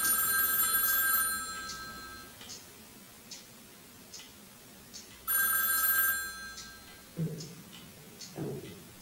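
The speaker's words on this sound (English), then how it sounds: "Can you get the phone?" A telephone ringing indoors in two loud bursts of bright electronic trilling, separated by quieter ticking and a few soft knocks, with nobody talking over it.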